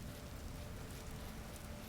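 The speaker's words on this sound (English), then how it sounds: "Still raining in this area." Steady rain falling in the video game Vintage Story, a soft, even hiss that stays constant and faint throughout, with no voices.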